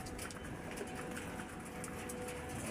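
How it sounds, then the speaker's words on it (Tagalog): Pigeons cooing in an outdoor backyard coop, soft and steady under a constant broadband wash of ambient noise, with faint repeated calls but no distinct loud notes. "Alaga natin kalapati."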